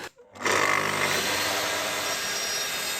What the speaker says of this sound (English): Once the glue was set, I trimmed the dowels back with the track saw.